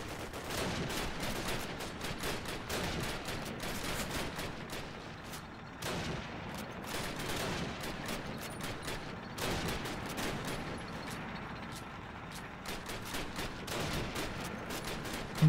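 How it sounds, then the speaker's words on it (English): Steady, dense gunfire from a Call of Duty: United Offensive World War II battle, with rapid overlapping shots and bursts running continuously throughout, loud and close, with no talk over it. "I'm trying to shoot as many as I can"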